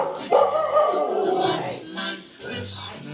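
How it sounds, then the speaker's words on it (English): Family dog barking and yipping close by in a household during a Christmas gathering, a few sharp barks and whiny yelps over about three seconds. "Hey, Jax, stop barking."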